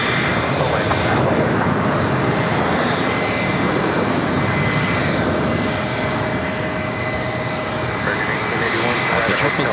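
Jet airliner on its takeoff roll down runway 25 right at LAX, a loud, steady engine roar holding for the full stretch, with a voice talking over it.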